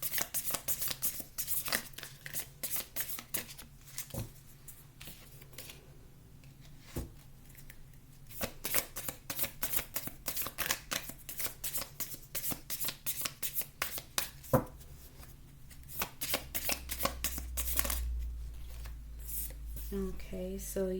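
Tarot cards being shuffled by hand in quick bursts of crisp riffling and slapping, close up, with a voice speaking in between the shuffles.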